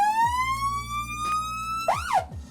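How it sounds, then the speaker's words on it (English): A 2022 F1 Safety Car siren switches on, its electronic tone sweeping steadily upward, then a sharp warbling whoop near the end, loud and close, with no talk over it. "I'm going to turn on the siren now"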